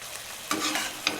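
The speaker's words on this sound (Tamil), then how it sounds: "நல்லா கிளறி விடுங்க." Gentle scraping and stirring of coriander powder in a pan of boiling water for butter chicken, with a soft sizzle in the background and a couple of brief louder scrapes.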